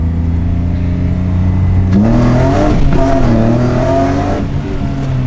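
BMW E30 engine with a new tune revving hard while accelerating, a loud, close, rising drone whose pitch climbs steeply after a steady idle-like hum, with no talking.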